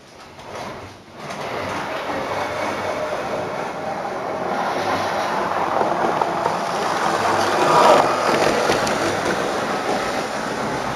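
Model Pendolino train running on a model railway layout, a steady rumbling drone that swells gradually and stays continuous throughout, fairly close with no talk.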